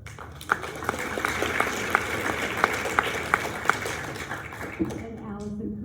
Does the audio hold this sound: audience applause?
yes